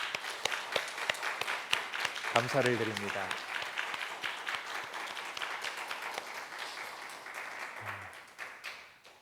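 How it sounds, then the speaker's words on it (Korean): A church congregation applauds together during a Sunday worship service, giving thanks and glory. The clapping is steady and then tapers off, and a voice speaks briefly over it. "함께 박수하겠습니다"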